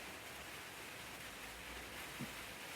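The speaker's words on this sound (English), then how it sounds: "But the weather's that bad with the rain." Steady rain falls outdoors on a wet day at a countryside shoot, a soft, even hiss that carries on evenly throughout with no voices.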